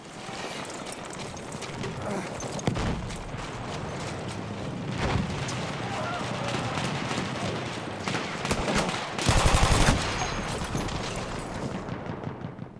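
Battlefield 1 gunfire in a Brusilov Offensive match: rapid, dense volleys of shots and distant explosions roll continuously, with a louder close burst near the end.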